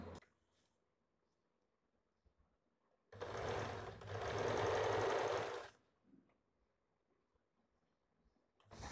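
A sewing machine stitching the front and back of a blouse together, one clear run of about two and a half seconds, close and fairly loud, between quiet pauses.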